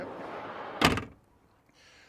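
A drawer in a vehicle drawer system in an Ineos Grenadier is pushed shut, giving one solid thunk that fades fast, followed by quiet.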